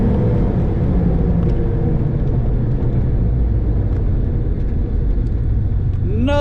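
A ProCharged 5.7 Hemi car roars through a drag run, a dense heavy engine rumble holding steady and loud for several seconds, with a rising whine appearing right at the end.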